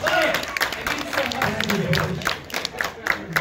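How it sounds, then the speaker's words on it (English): Audience clapping and crowd noise fill a Power Rangers fan convention panel, with dense, rapid claps that thin out toward the end while a voice talks over them. "Round of applause for that"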